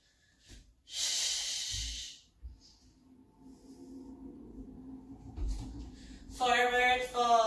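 Deep audible breaths during a beginner yoga handstand flow: a loud sharp exhale through the nose, then quieter breathing, with a voice speaking softly near the end.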